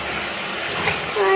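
Water gushes steadily into a washing machine drum for laundry, a loud continuous rushing fill with a faint tonal whine rising near the end.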